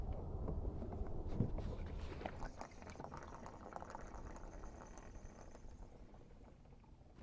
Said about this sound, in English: now add this to our water tank